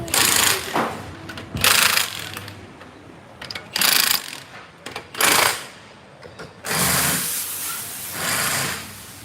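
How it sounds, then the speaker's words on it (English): Power tool work on cars, drilling or loosening lug nuts, on a street in Hong Kong between Happy Valley and Tai Hang: repeated loud whirring, ratcheting bursts of a second or so, separated by quieter street background. "someone's drilling holes into a car or taking the lug nuts out of the vehicles"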